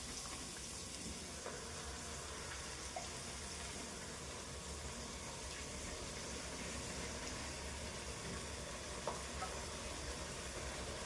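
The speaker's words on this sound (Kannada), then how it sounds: "ಈಗ ಮಸಾಲೆ ಹಾಕ್ಕೊಂಡು ಚೆನ್ನಾಗಿ ಮಿಕ್ಸ್ ಮಾಡ್ಕೊಳ್ಳೋಣ." Spiced masala being stirred into fried vegetables for vegetable pulav, a steady low sizzle with scraping spoon strokes running continuously at moderate distance, no voices.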